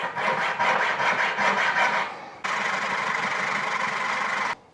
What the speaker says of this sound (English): cut the aluminium pole with an extra 2 millimeters at this end using your hacksaw with a fresh blade